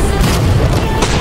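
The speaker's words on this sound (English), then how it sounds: "Oh, they're shooting at us." Cannon fire from a ship in a naval video game booms heavily and continuously, loud and close, with deep rumbling impacts and crashing bursts filling the whole moment.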